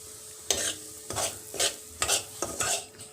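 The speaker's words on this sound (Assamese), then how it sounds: "আৰু এই সুজিখিনি অকণমান মই ভাজি ল'ম।" Semolina stirred in melted ghee in a pan, with a soft sizzle under five or six rhythmic scraping strokes of a spoon, close and fairly quiet, no voices.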